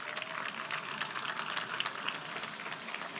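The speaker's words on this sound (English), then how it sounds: "a round of applause, please." Crowd applause at a live outdoor event in Times Square, New York City: a steady, dense wash of many hands clapping, fairly distant and continuous throughout, with no talking over it.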